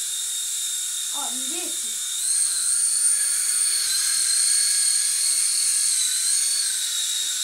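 A small toy drone hovers nearby with a steady high-pitched propeller whine that swells a little louder partway through, and someone speaks briefly early on.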